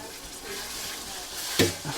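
Fish curry with tomatoes sizzles in a pot over a village cooking fire, a steady close frying hiss broken by a sharp stirring scrape near the end.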